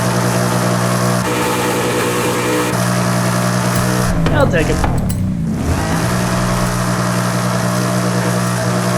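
A car engine in the Forza Horizon 5 racing game idles with a steady low drone, briefly revving louder midway before settling back, under a speaking voice.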